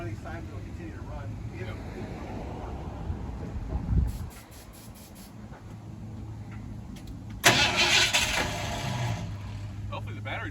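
A 1978 Ford F150 pickup that has sat unused for years, its engine cranking and turning over near the mic, with a short burst of revving partway through and a person talking over it.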